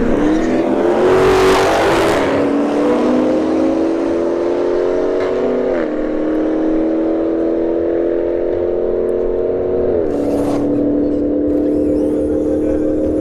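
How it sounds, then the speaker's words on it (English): An A90 Supra and a Charger Daytona 392 Scat launch in a street drag race, with loud engine roar climbing steadily through distinct gear shifts as the cars pull away. "A90 Supra in the right lane. And a Charger Daytona, so probably like a Scat,"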